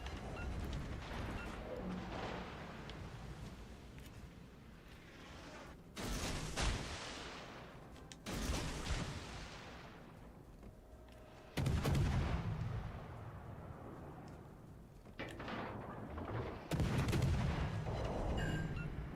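Naval artillery in the World of Warships: Legends video game, with heavy booming salvos striking every few seconds over a rumbling battle backdrop, loud and close.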